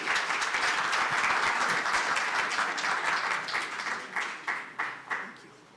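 An audience at a literary celebration honouring Pheroze Nowrojee applauds a poem reader heading to the podium, a full round of clapping that gradually thins out into a few scattered, distinct claps at the end.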